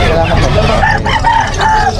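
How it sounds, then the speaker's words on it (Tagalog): Fighting roosters crow in a noisy yard, their calls rising over a constant loud background murmur, with several crows overlapping close by. "Napapalibutan tayo ng mga manok na panabong."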